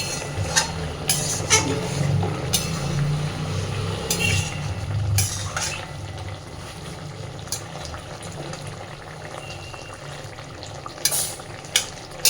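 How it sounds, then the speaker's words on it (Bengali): A pan of ban fish kalia with potatoes bubbles and sizzles steadily on the stove, a continuous simmer broken by a few sharp clinks and stirring sounds. "এইবার মিনিট 5 এটাকে খুব ভালোভাবে ফুটিয়ে নেব।"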